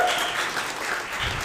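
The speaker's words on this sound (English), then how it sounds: "another round of applause for Lisa and Michael Gungor" Audience applause at an event with Lisa and Michael Gungor, a steady wash of many hands clapping, moderately loud and continuous throughout the short stretch.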